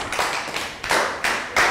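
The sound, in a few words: class applause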